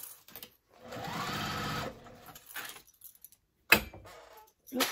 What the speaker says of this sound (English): I'm just doing a 1/4 inch seam